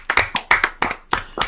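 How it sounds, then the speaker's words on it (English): A few pairs of hands clap briefly in an uneven patter of quick claps, close and fairly loud, lasting only a moment. "Give yourselves a round of applause"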